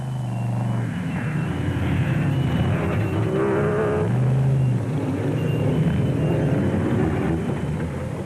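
A Ford Ranger rally truck races through the dongas and hollows of the Limpopo 400 in 2006, its engine roaring loud and steady with rising and falling revs, no voices.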